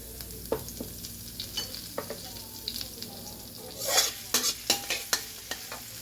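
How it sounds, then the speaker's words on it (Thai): Chili and holy basil are stir-fried in a hot pan for a pork krapow dish. A utensil scrapes and stirs in uneven strokes over a soft, constant sizzle, louder toward the end, with no talking. "ลงพริกกะเพราเลย"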